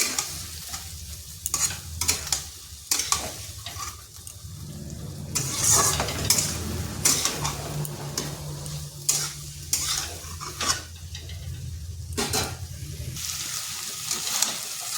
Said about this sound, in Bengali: ভালোভাবে সব কিছু মিশিয়ে নিচ্ছি।